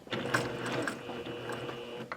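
A sewing machine runs a short burst of stitches reinforcing the top of a cardigan pocket, a quiet mechanical whir with rapid clicking needle strokes, heard alone without speech.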